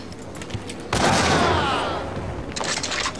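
A grenade blast and gunfire in the video game Max Payne: a sudden loud boom about a second in with a long decaying rumble, light shots before it and another burst of gunfire near the end.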